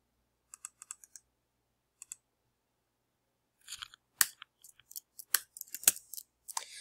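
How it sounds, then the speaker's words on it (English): Someone types a passphrase on a computer keyboard: a few isolated key clicks, then a denser cluster of crisp, close keystrokes and clacks in an otherwise silent room, with no voices. "So I just pasted it and deleted a few letters and went ahead and typed the remaining ones."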